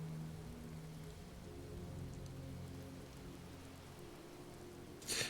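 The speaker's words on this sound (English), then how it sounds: "There's something so peaceful about the thunder off in the distance and just listening to the rain" Steady rain patters on surfaces in the Skyrim video game, soft and continuous, with a low distant rumble of thunder beneath it and a brief louder splash at the end.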